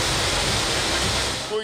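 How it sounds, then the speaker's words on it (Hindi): Floodwater after heavy rains in Kalat, Balochistan rushes in a loud, steady, unbroken roar of broadband noise, close and continuous throughout. "कल्लात में बारिशों से नदी नाले बिफर गए, कई घर पानी में बह गए।"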